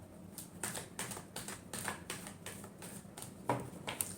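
A deck of tarot cards being shuffled during a reading, giving a run of quick papery riffles and flicks in steady bursts, close and moderately loud, with a couple of sharper snaps near the end and no talking.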